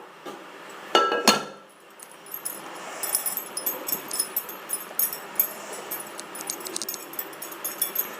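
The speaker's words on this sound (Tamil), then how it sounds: "இது டெய்லி காலம்பரையும் சாயங்காலமும் ஒரு வாட்டி இந்த மாதிரி குலுக்கி மட்டும் விட்டு வச்சிடலாம்." A glass jar of homemade lime pickle being handled and shaken: a couple of clear glassy clinks, then a quiet run of light rattling taps, close by with no talk.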